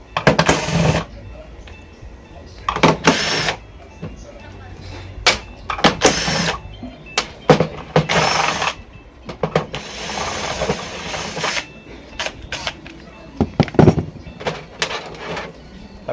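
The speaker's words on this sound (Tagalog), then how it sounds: "remove muna tayo ng mga screw" Screws come out of a Samsung LCD TV with a power driver in short, repeated whirring bursts separated by pauses, while someone talks throughout.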